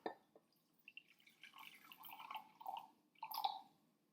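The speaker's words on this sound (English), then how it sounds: "So I'm going to pour only about half a cup." Liquid poured into a liquid measuring cup, soft trickling and splashing in uneven bursts, close and quiet, with no talking.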